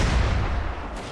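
Artillery firing during a land-battle siege in the strategy game Shogun 2: Fall of the Samurai, a loud booming burst with a rumbling decay lasting about a second, no voices over it.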